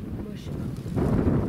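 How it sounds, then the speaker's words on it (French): Wind blows outdoors, buffeting the microphone with a low, rumbling roar that swells louder in the second half of a brief moment. "il y a du vent, on va pas traîner"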